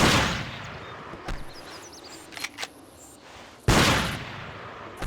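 Hunting rifle shots in Cabela's Big Game Hunter 2005, two loud, sharp blasts a few seconds apart, the first ringing out into a long decaying tail, with faint outdoor ambience and small clicks between.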